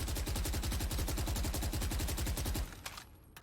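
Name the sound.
Phantom rifle firing in Valorant video game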